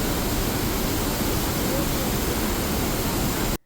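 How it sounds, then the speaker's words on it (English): Trümmelbach glacier-melt waterfalls in Switzerland roar as a dense, unbroken wash of loud white noise, steady throughout before cutting off abruptly at the end. "just the sheer power of these glacier waterfalls of Trummelback was just outstanding"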